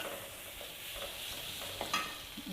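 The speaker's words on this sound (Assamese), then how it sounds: "এতিয়া এইখিনি দি ভালদৰে ভাজিলোঁ, 2 মিনিটমান ভালদৰে ভাজি" Chicken curry pieces with clove and cinnamon being fried and stirred in a pan, a soft continuous sizzle with occasional scraping stirs and a brief clatter of the spoon near the end.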